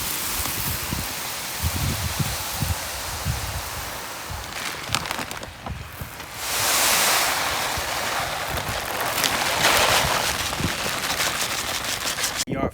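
Granular lawn fertilizer pours out of a 50-pound bag into a broadcast spreader, a rough continuous rattling hiss of pellets that swells louder in gushes, with no talking.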